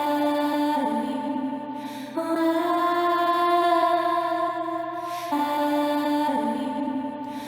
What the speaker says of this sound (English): We've got a cappella vocal sample here.